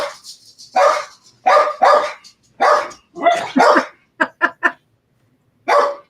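Several dogs bark excitedly at the front door of a home, sharp bursts of loud, close barking in irregular clusters, ending with a few quick yips and a last bark after a short pause.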